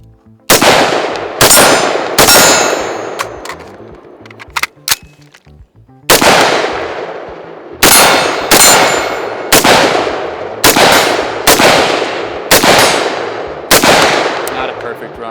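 Rapid gunfire at an outdoor shooting range, roughly a dozen loud, sharp shots with steel targets ringing back metallically after each hit, fired in quick bursts with a short pause partway through.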